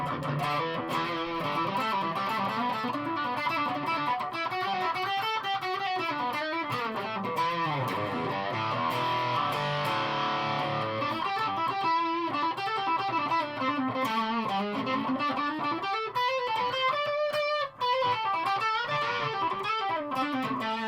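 Electric guitar with humbucker pickups through a Joyo US Dream distortion pedal plays a sustained, continuous riff with shifting melodic lines, loud and steady throughout with no voice.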